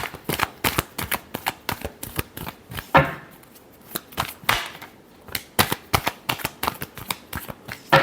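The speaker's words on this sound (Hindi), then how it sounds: "लास्ट शफल, पता नहीं ये कार्ड क्यों गिरे" A deck of tarot cards is shuffled by hand in quick, crisp riffles and flicks, close and loud, with a short pause midway before the rapid shuffling resumes.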